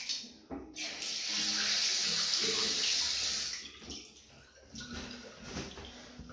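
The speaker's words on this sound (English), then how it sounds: "let me just wash my hands." Hands washed under a running tap while transferring home-brewed lager to a fermentation vessel: a steady, close rush of water lasting a few seconds, ending as the flow cuts off, followed by faint handling noises.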